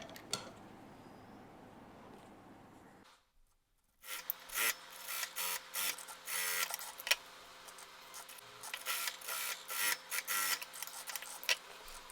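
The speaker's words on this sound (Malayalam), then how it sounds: "ഇത് നമ്മൾ സ്റ്റിച്ച് ചെയ്യാൻ പോവാണേ" A sewing machine stitching a small baby dress, starting after a quiet moment with a close mechanical whir and rapid, uneven rattling bursts as the fabric is fed through.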